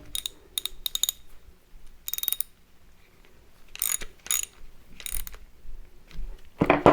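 Ratcheting clicks come from tightening a nut on a C3 Corvette tie-rod assembly during a steering build, in several short bursts of close clicking with pauses between them, then a louder clunk at the end.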